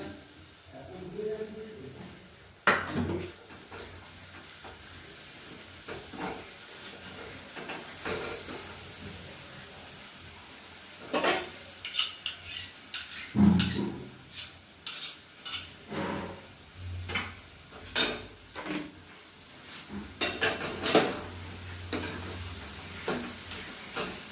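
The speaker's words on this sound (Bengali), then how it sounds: "নেড়ে নেড়ে একটু পাক করে নেবো" Chana dal is stirred with sugarcane jaggery in a cooking pot. Scattered scrapes and metallic clinks of the spoon against the pan come and go over a faint sizzle, and a voice is heard at times.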